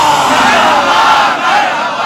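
A large crowd at a 12 Rabi ul Awwal religious procession chants slogans in unison, a loud, dense roar of many voices sustained throughout.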